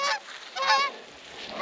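Geese honking in a rapid run of harsh, nasal calls, fairly close, with a brief lull before another honk at the end.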